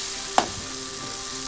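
An okonomiyaki cake with shrimp, cheese and egg sizzles steadily in a hot pan, a close, soft hiss with one brief thump as it is turned over, no voices.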